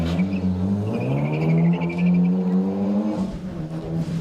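A two-wheel drive Mark 1 Ford Escort rally car at an autosprint event, its engine droning loudly and steadily with rising and falling revs, close and alone.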